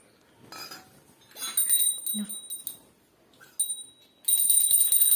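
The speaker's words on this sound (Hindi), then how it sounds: "घंटी बजाओ, घंटी बजाओ।" A small handheld puja bell rings in bright, metallic bursts during a Hindu home worship ritual, stopping and starting, then ringing continuously and louder near the end.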